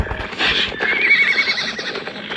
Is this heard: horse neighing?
yes